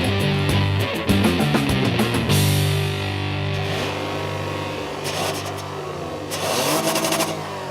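A 2015 Toyota Camry with a V6 engine accelerating hard and spinning its front wheels, the engine revving loud and close with shifting tone and bursts of tyre noise.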